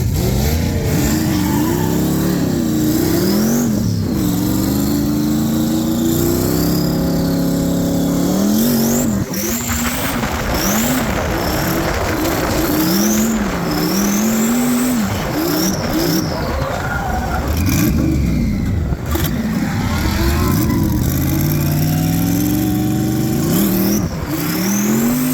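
A drift car at a drift competition during an Octoberfest event revs hard and slides, its engine rising and falling loudly through gear changes, with tire squeal weaving through the continuous roar.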